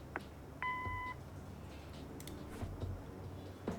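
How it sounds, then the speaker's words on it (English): A single clear answering-machine beep in the video game Kathy Rain, a steady electronic tone lasting about half a second over a quiet background, with faint clicks afterward. "Leave a message after the beep."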